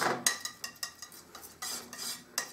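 A palette knife mixes three oil paint colours together on a palette, making soft repeated scraping and smearing strokes in an uneven rhythm, close and fairly quiet with no voices.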